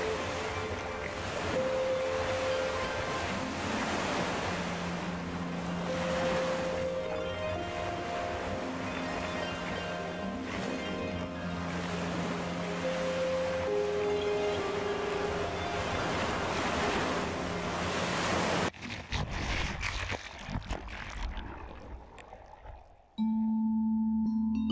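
Ocean waves and white-water surf roll continuously and loudly close by, with wind buffeting the microphone, then break off into a brief rumbling wash near the end.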